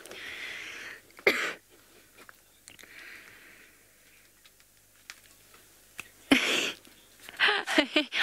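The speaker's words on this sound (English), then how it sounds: "I was mid-cough" A person coughs on a live safari stream, with a couple of sharp, close bursts standing out over a faint, quiet background.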